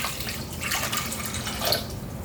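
Water is poured into a saucepan of pickling liquid made with white vinegar, sugar and spices, a steady close splashing trickle that lasts throughout.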